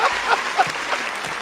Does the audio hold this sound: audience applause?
yes